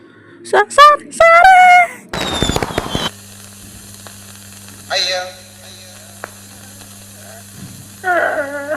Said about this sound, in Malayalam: എന്തിനാ ആളുകൾ പടക്കം പൊട്ടിച്ചേ?